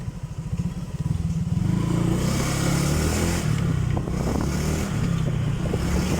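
Honda Vario 125 scooter engine revving under throttle with a slightly delayed, sluggish pickup, a loud close steady drone that rises after the first second and holds with rattly mechanical clatter.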